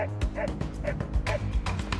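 A search and rescue dog at an earthquake site, barking in quick repeated woofs about twice a second, loud and close, mixed with small yips and whimpers.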